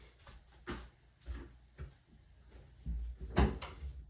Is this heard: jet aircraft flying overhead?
no